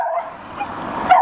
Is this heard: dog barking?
yes